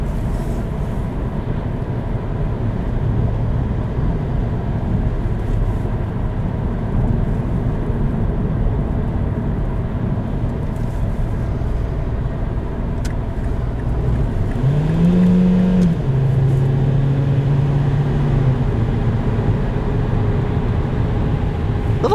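Steady road and engine drone inside a 2012 Mazda3 with a 2.5-litre engine cruising at highway speed, with a brief tonal hum partway through.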